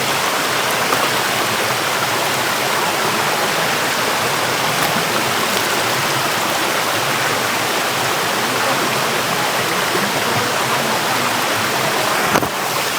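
Waterfall and stream rushing through a Sri Lankan forest, a steady, dense roar of water that holds unbroken from start to finish, close and loud.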